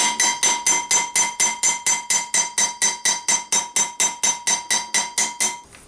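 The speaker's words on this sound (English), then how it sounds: "Same hammer, and just even it out a touch, just work the whole surface until it's nice and planished and smooth." Steel hammer planishing a steel gothic gauntlet backplate on a metal former, a steady run of about twenty-three bright ringing strikes at a regular quick rhythm, close and loud, with no voices.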